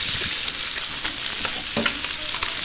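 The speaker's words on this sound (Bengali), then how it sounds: "এবার আমরা কড়াইয়ে দিয়ে দিচ্ছি মাছগুলো ভাজার জন্য।" Small laylontika fish fry in hot oil in a wok, giving a dense, continuous sizzle close by with a few light clicks and spatters throughout. No voices are heard.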